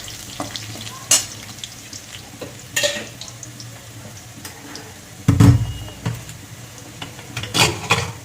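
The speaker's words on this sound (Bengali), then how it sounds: "রসুন আমার ভালো করে ভাজা হয়ে গেছে।" Garlic fries in oil for lentil dal, a soft, steady sizzle punctuated by several sharp spatula scrapes and stirring clatters at irregular intervals.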